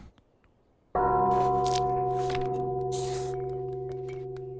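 A bell rings out in a video game village: one loud, close strike that swells into a sustained, overtone-rich tone and slowly decays over several seconds, with brief brighter chimes flickering above it. There is no talk.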